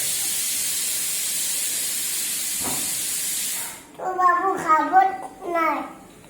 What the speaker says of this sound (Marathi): कुकरचा आवाज येतो